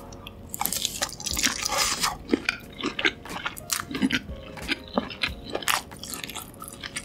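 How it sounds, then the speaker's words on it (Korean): Close-up bites and chewing of a sausage dipped in beer cheese dip, with crisp snaps, wet squelches and irregular munching sounds, no talking. "첫입은 비어치즈 딥에 소시지 푹 담궈서 한번 먹어볼게요."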